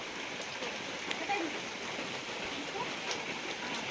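Heavy torrential rain pours down steadily as a continuous broadband hiss, close and even throughout, with a few faint drops standing out.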